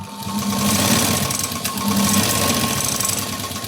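Sewing machine stitching a size-40 katori blouse, a rapid continuous mechanical whirr in two sustained runs with a brief dip between, close and loud with no talking.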